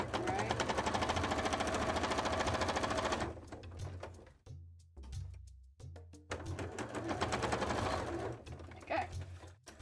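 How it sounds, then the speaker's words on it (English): A sewing machine topstitches the lining of a cosplay headpiece, running close and loud in a steady rattling burst, then stopping and starting in short stitches before another sustained run. "Do I want to do top stitch on the lining as well?"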